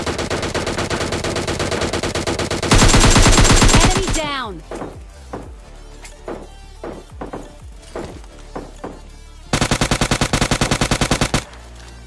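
Enemy gunfire in PUBG Mobile Lite near a warehouse: sustained loud automatic bursts at the start, then scattered single shots and thuds, then another long rapid automatic burst near the end, with someone talking in between.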